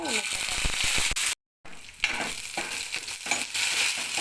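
Green chillies frying in hot oil for spinach chutney, a loud close sizzle and crackle with stirring clatter, briefly cut to silence midway before the frying resumes.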